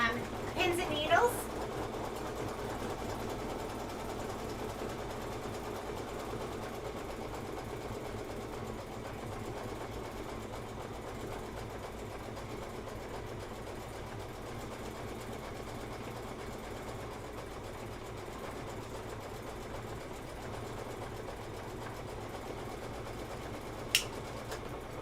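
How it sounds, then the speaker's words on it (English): Sewing machine stitching fabric in a steady, even whir that runs continuously at moderate volume, with a brief clunk at the start and a click near the end. "Let's go ahead and stitch that."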